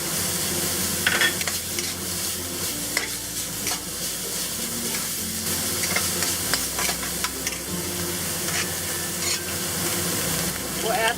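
Ground pork, ginger and garlic for Sichuan Ma Po Tofu stir-fried in a hot pan, with a constant sizzle and repeated scraping, clacking spatula strokes close up.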